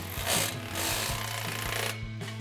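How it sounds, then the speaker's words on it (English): A ratchet with a 15mm socket tightens the exhaust clamps on a 2014-2019 Corvette C7 axle-back exhaust, giving close, brief bursts of rapid clicking and grinding. "grab our ratchet 15mm socket and tighten them down."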